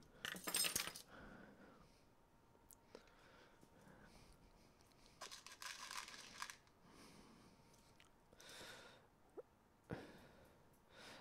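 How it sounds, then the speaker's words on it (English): Keys jangle and clink in bursts as they are handled and pulled away from a playful animal, the metallic rattling coming close and fairly loud over a quiet indoor background. "Okay, Foxy, I gotta take away the keys because you're being weird."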